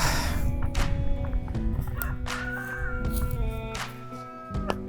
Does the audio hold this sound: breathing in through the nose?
no